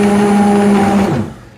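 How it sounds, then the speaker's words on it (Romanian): A blender whirs loudly with a steady motor hum as it purées a warm sauce, then winds down and stops after about a second. "Eu îl triturez cald."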